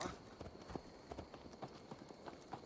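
Horse hooves clip-clopping in the video game Assassin's Creed Valhalla, a steady walking rhythm of distinct close hoof strikes on hard ground over a faint background.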